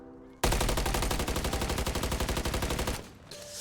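Call of Duty MW3 gunfire: close, loud automatic fire starts abruptly and rattles off in a rapid, even stream of shots for about two and a half seconds, then stops.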